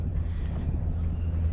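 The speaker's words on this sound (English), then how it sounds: "But it is ridiculously windy." Strong wind buffets the microphone at a lakefront campsite on a blustery day, a continuous loud low rumble with no break and no voices.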